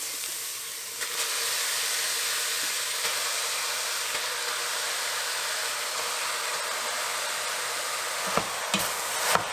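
Chopped onions and ground meat fry in a pan for a Mother's Day lasagna, giving a steady, even sizzle that holds close and loud throughout, with a few sharp clicks of a utensil near the end.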